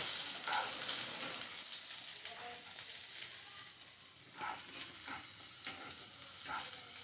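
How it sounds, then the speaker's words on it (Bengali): Onion and garlic fry in a pan for pumpkin pasta, giving a steady, close sizzle with occasional soft stirring scrapes and clicks. "রসুনটা সামান্য হালকা করে ভেজে নেব নিয়ে এর মধ্যে দেব পেঁয়াজটা পেঁয়াজটা আমি একটু লালচে করে ভাজবো"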